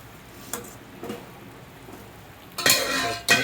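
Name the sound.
lightly stirring sambar in a pot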